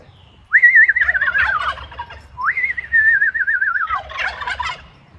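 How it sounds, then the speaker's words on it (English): Homestead turkeys gobble loudly and close by, two long warbling calls each followed by a burst of rattling gobbles, with no talking. "Got to talk to your turkeys."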